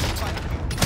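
Dense gunfire in a video game firefight, a sustained wash of overlapping shots with players' voices talking over it through the brief moment.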